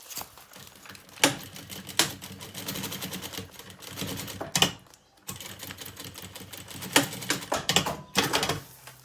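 A sewing machine stitches synthetic lining fabric on a kids' lunch bag, its rapid needle chatter running in bursts with a brief pause midway. The sound is close and clear, with no talking.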